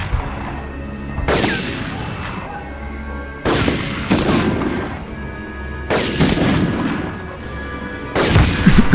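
Gunfire in a 1999 PS1 video game: loud bursts of shots and booms that come in three or four heavy clusters separated by short gaps.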